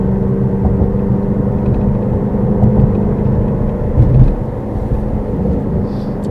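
A Ford Mustang GT350 drives through rain, its engine a loud steady low rumble up close, swelling briefly near the end while the wet road hiss runs underneath.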